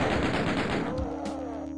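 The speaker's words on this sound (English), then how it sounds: "Break out the chain gun again, because it's time to drop a bunch more bodies." Chain gun firing in the Doom video game: a dense, rapid burst of loud mechanical shots for about a second, then a ringing, humming tail.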